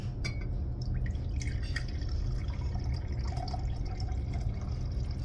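Strained fluid is poured steadily from a container in a lab, a continuous low splashing stream with occasional glassy drips and clinks ringing over it, close and unbroken throughout.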